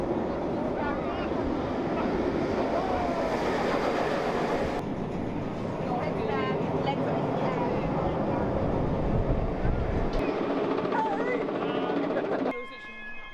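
Galactica roller coaster at Alton Towers, a loud continuous roar of a train rushing along its track with rattling wheels, held for most of the ride before dropping away sharply near the end.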